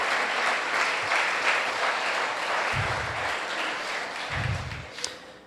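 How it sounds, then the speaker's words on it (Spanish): A church congregation breaks into warm, continuous applause, many hands clapping together at a steady level, with a couple of low thuds from the room underneath. "Dele un aplauso al Señor"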